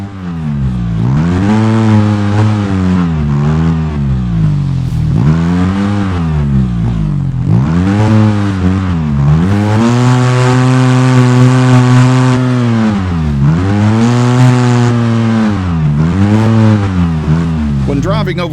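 Off-road vehicle engine in the video game Overpass, driving up onto a seesaw and off again, a loud close motor rising and falling in pitch through repeated revs while a voice talks over it.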